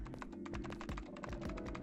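Keyboard typing from the video game 9 Hours 9 Persons 9 Doors: rapid, steady close clicks and taps run without a break over a low game music bed.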